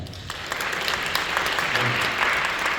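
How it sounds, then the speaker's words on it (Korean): A church congregation applauding during a Korean service, a steady wash of many hands clapping that fills the room and continues evenly throughout, with a voice faintly over it. "다시 한번 감사의 박수 드립시다."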